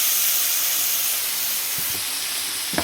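Peeled onions added to hot oil in a pan for stuffed bitter gourd, giving a strong, close, continuous hiss of sizzling that fades slightly, with a few soft knocks near the end.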